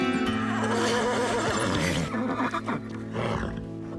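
Horse neighing in an animated stable scene, a loud drawn-out whinny with shaking, wavering pitch that fades into softer snorts and breaths.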